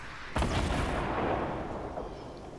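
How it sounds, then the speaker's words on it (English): A single heavy gunshot in the Fortnite battle royale video game during squad play: one loud, sharp blast with a long, booming rolling tail that slowly fades, heard alone without talk. "I'm just shooting where I think he might be."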